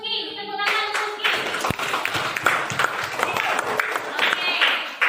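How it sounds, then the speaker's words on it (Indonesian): A classroom of students claps for a classmate, a brisk scattered burst of hand claps building to a steady patter, close and lively, with a teacher's voice heard over the start. "give applause untuk Rizky. Tepuk tangan Rizky."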